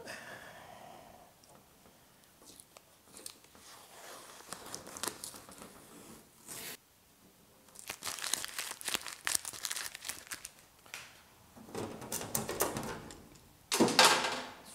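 Tape being peeled off a car firewall on a GTO restomod, heard as quiet crinkling and tearing with a few louder ripping bursts near the end, close by and without talk.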